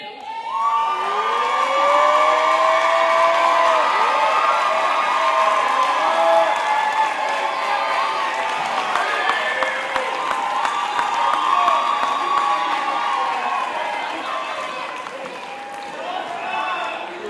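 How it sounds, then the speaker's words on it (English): Graduates at a college commencement ceremony applauding their families, a sustained loud roar of clapping and cheering from a large crowd with scattered whoops and shouts, swelling and then slowly tapering off. "with applause indicate your appreciation for the support they have all given you"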